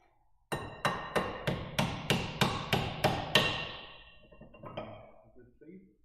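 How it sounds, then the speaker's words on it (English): A hammer strikes metal nine times in a steady, evenly spaced rhythm, each blow loud and ringing, followed by quieter clanks and handling noise as the work stops. "Hammer."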